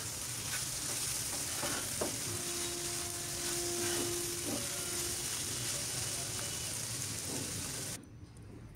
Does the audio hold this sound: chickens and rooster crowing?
no